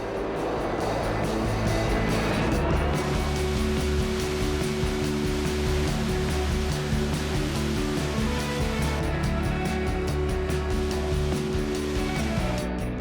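Concrete pours from a batching plant's loading chute into a mixer truck's hopper as a loud, continuous, rumbling roar with a steady low engine drone underneath.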